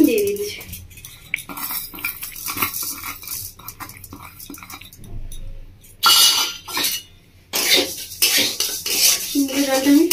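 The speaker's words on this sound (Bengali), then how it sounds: "কড়ার মধ্যে মুগের ডালটা দিয়ে দিচ্ছি" Moong dal tipped into a hot, dry kadai, clattering and rattling against the metal with scraping stirs and clinks, loud and close, with a brief quiet gap midway.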